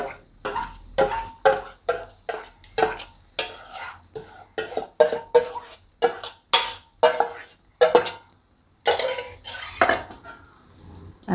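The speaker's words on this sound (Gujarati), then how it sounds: "હવે બધી ગ્રેવી આપણે એમાં નાખી દઈશું." Gravy tipped into a pan over a low flame and stirred hard: a rhythmic run of loud, close spoon scrapes and clanks against the metal, with a soft sizzle underneath and brief pauses between strokes.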